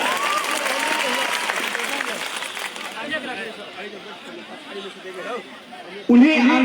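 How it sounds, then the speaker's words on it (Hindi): A crowd at a political rally in Lahan claps loudly for about three seconds, and the applause then thins into a murmuring hubbub before a voice picks up again at the end. "जो यहाँ पर मौजूद होंगे उनके लिए एक बार जोर से ताली बजा दें"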